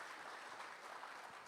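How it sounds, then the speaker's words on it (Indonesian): Church congregation at a worship service applauding, a steady, faint wash of many hands clapping together with no individual claps standing out, heard briefly at a low level. "Kasih tepuk tangan buat Tuhan Yesus."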